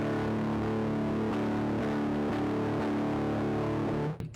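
Electric guitar played through a modified MXR Blue Box fuzz pedal, producing a thick, buzzy sustained tone with light rhythmic picking that continues steadily for about four seconds before cutting off abruptly.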